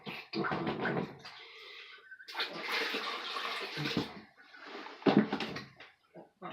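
Water runs into a bucket of fermented chicken feed in a few gushing bursts, a close, splashy pour broken by short pauses and clunks.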